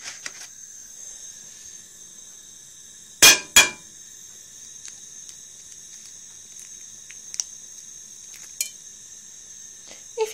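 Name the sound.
cracking an egg into a frying pan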